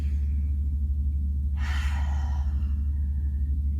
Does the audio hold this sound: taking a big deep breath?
yes